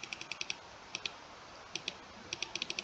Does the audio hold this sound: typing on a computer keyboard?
yes